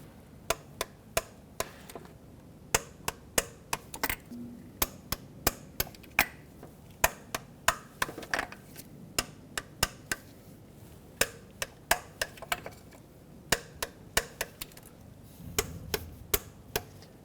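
A torque wrench clicks repeatedly while the thermostat housing bolts on a 1998-2011 Ford Ranger 4.0L V6 are tightened to spec. Sharp, close ratcheting ticks come in quick irregular runs with short pauses between bolts, no talking.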